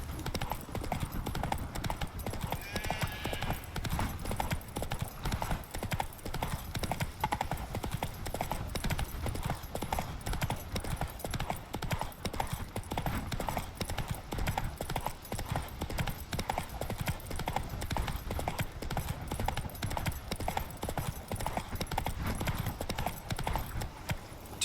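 Roach the horse trotting in The Witcher 3, hooves clip-clopping in a fast, steady rhythm throughout, with a brief whinny early on.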